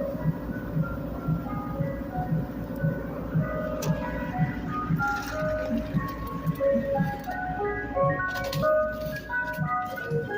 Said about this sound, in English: We got a new ice cream truck in Philly